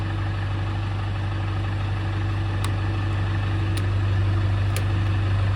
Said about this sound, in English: Good sounding motor.